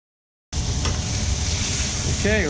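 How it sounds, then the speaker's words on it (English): Beef for New York strip steak dropped into a hot pan, setting off a sudden loud, dense sizzle that holds steady after a brief silence, with a short voice-like sound near the end. "Okay, our pan is hot, so we're going to add the beef."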